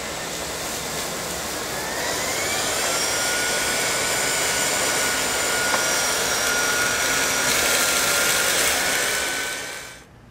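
A Miele S4 Neptune vacuum cleaner runs with a steady, loud broadband whir and a faint rising whine as it moves from carpet onto tile, holding nearly constant before cutting off at the end.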